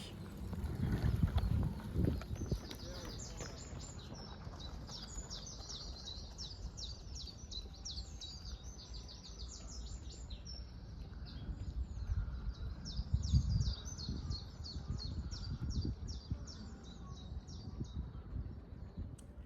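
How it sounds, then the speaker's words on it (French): Small birds singing outdoors, repeated bright chirping phrases over a softer background of low thumps and rustling, moderately distant and continuing throughout. "vous entendez sûrement les petits oiseaux qui chantent"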